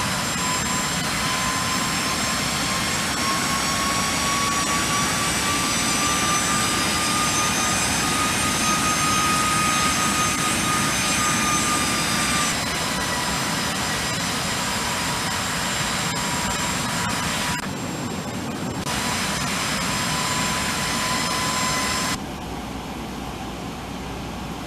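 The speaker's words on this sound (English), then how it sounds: "The plane is turning by itself to the heading of 270, that is the runway heading." The jet engines of a Boeing 737-800 turning toward the runway on a flight into Mumbai hold a loud, continuous roar with steady high whining tones that shift slightly in pitch.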